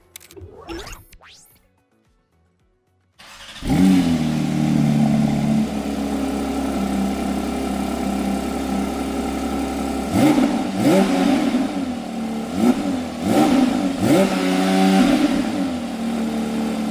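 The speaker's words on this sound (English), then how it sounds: "hear this thing turn on and revved a little bit" A 2022 Porsche GT3 engine fires up after a brief quiet moment, settles into a loud, steady idle, then gives several sharp throttle blips that rise and fall near the listener.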